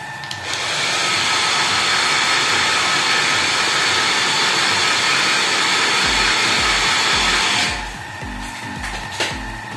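A hair dryer blows steadily and loudly for about seven seconds while drying homemade chameleon paint, then switches off, leaving quiet handling sounds.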